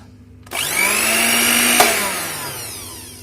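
A Miyako blender motor starts up on its first speed setting, jumping to a loud, steady whine that holds at a fairly even pitch and then slowly sags toward the end, with no talk over it.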